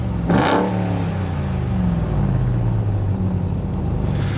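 A 2021 Ram TRX Launch Edition engine revved hard once, a sharp loud rise then a deep rumbling idle that settles and holds, close and alone.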